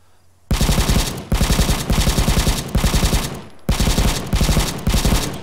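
Automatic gunfire in the video game Arma 3, loud rapid bursts of machine-gun shots in several strings separated by short pauses.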